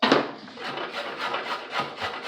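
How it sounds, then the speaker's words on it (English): Steady rhythmic rasping and scraping strokes of carrots being grated, close and moderately loud, with no talking. "we're going to grate carrots"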